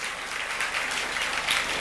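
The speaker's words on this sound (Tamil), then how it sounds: "கைத்தட்டி ஆமேன்னு சொல்லுங்க." A church congregation claps hands together during a Sunday service, a dense, steady burst of applause throughout with no voices over it.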